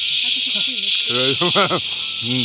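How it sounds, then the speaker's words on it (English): A constant high, buzzing drone of cicadas fills the background, steady and loud, while people talk over it. "Probably won't hear this anywhere with all the cicadas"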